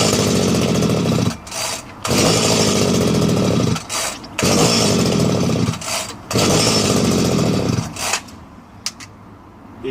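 A faulty chainsaw engine repeatedly revs up loudly then cuts out, four or five surging bursts separated by brief dips, ending in a weak sputter as it fails to keep running.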